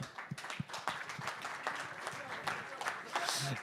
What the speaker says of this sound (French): ces créateurs et créatrices de contenu de talent que je vous demanderai d'applaudir